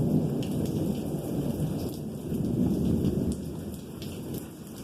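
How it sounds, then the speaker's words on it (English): Rolling thunder rumbles low and continuous through a thunderstorm, layered under steady heavy rain on surfaces, swelling and easing across the few seconds with no voices. "that thunder is still rolling"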